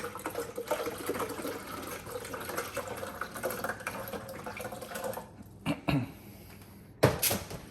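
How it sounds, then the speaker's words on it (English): Water poured from a pitcher into the tank of a Miele CM6150 coffee machine, a steady close trickle and splash lasting about five seconds, then a few short knocks and clunks as the pouring stops. "I'm gonna fill up the water tank to the level where it indicated"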